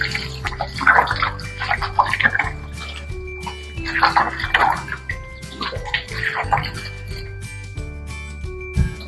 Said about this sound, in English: So the produce came from the market, so we have to wash thoroughly.